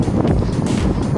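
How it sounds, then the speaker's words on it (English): Strong wind buffets the microphone, a loud, gusting rumble that rises and falls throughout. "It's a lovely day, although it's quite windy."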